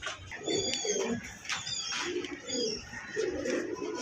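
Damascene pigeons on a pigeon farm, several birds giving repeated soft throaty coos in overlapping bursts, close by, with faint chirps and no speech.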